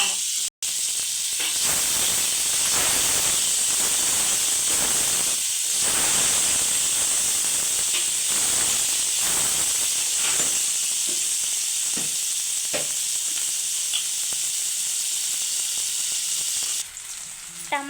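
Tomato and onion fry in a pan with a loud, continuous hissing sizzle, broken by occasional stirring scrapes and a brief knock near the start, before the sound drops away at the very end.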